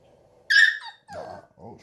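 A young dog called a war dog gives a sharp, high yelp followed by short whimpering whines, close and loud, with a voice talking between them.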